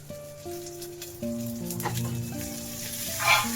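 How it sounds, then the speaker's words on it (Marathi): Onion, cumin, mustard seeds and chillies sizzling in a hot pan for Puneri misal, a close, steady crackle of frying with faint stirring and small pops. "अर्धा चमचा जिरं मोहरी कांदा या चांगलं भाजून घेऊया कांदा भाजून झाला की मिरची टाकूया"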